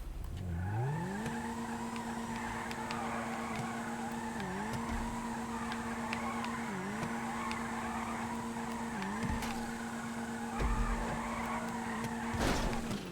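A car drifts in a racing video game, its engine holding a steady high drone that dips briefly during each slide while the tires squeal and skid, with sharp bursts of scraping noise near the end.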